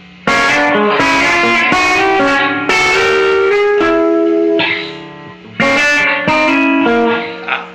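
Distorted electric guitar plays a loud lead phrase from a solo, with notes sliding downward and short gaps between bursts.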